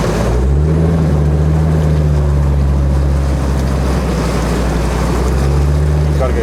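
Land Rover Defender 90 pushing through deep flood water at Strata Florida, a steady loud engine drone with constant churning water and bow wave rush throughout, under faint voices.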